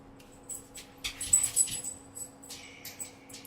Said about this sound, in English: The puppy be making the noises. He's barking at all the peoples.